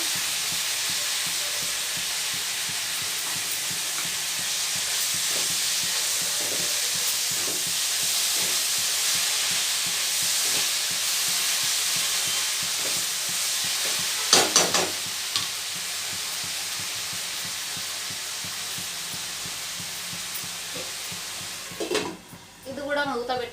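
Fresh fenugreek leaves (methi) cook in a pan with a steady hiss and sizzle. Stirring clatters break in now and then, a sharper scrape comes near the middle, and a voice is heard faintly.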